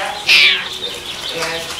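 A cat in a cat house gives one bright, close meow near the start, followed by softer, fainter vocal sounds in a quiet indoor setting.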